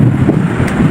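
Wind buffets a handheld microphone outdoors at night in Las Piñas, a steady loud low rumble that runs through the whole moment with no voices over it.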